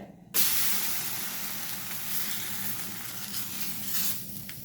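Talipattu dough hits a hot tawa griddle with a sudden loud sizzle that settles into a steady frying hiss, with small crackles and spits near the end.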